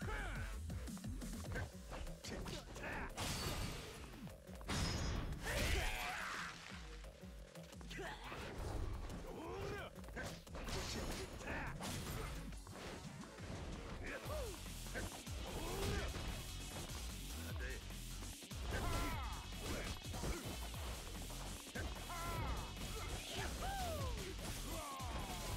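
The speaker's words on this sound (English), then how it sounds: "He's smashing their head into the wall." Heavy impact of a head being smashed into a wall in Yakuza 0, bursts of crunching hits and thuds layered with game music and effects, alongside talk.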